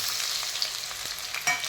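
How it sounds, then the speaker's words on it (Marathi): Boiled potatoes frying in hot oil for sabudana khichdi, a soft steady sizzle with faint stirring clicks, close and quiet, no voices. "हे उकडलेले बटाटे आहेत, ते छान तेलात छान तळून घ्यायचे"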